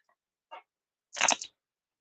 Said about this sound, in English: Sorry, I know you hear me chewing.